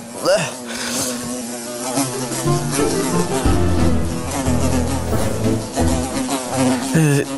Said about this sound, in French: Oh, ça grouille d'insectes partout.